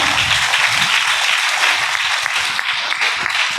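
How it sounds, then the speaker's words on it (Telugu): A church congregation at Sunday worship applauding in praise of God, a steady wash of many hands clapping, loud and close, without speech over it. "ఇప్పుడు చప్పట్లు కూడా దేవుని మహిమపరచండి"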